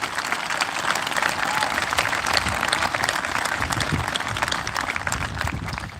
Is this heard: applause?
yes